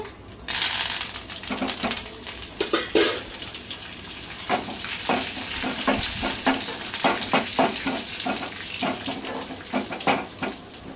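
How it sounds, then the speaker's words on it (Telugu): Curry leaves dropped into hot tempering oil already frying cumin, for a toor-dal-and-amaranth (thotakura pappu) tempering, give a loud, steady crackling sizzle with sharp spattering pops throughout, close up and with no talk. "ఇప్పుడు కరివేపాకు వేస్తున్నానండి."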